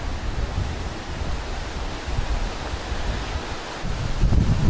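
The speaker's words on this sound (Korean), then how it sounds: "금강산에 있는 폭포 중 가장 큰 규모로 유명한 구령폭포" A broad, steady roar of rushing water, constant and full-bodied with no pauses, from Guryong Falls, the largest waterfall in the Geumgang Mountains, heard from nearby.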